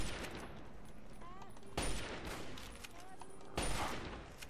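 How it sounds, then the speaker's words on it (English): Gunfire in the video game Fallout 3: a steady wash of shooting with two louder bursts standing out, each erupting abruptly before settling back into the continuous din. "someone is shooting at me"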